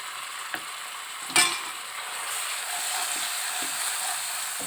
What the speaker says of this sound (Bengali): এবারে টমেটো কুচি এবং মশলাগুলো নাড়তে থাকবো।